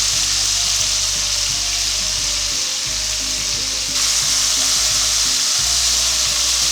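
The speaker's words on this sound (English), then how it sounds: "And now we can put our shrimp in." Fresh shrimp sizzle loudly in hot oil and andouille sausage drippings, a steady broadband frying hiss with a few low clinks of the pan, continuing without any voices.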